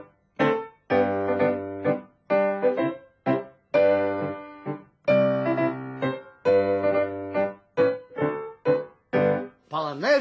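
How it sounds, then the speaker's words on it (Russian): On piano, the children's song "V lesu rodilas yolochka" is played as an intimate mazurka, with phrased chordal notes in a lilting triple rhythm, clear and close, broken by short pauses and no speech. "когда наша елочка звучит как мазурка, она звучит так"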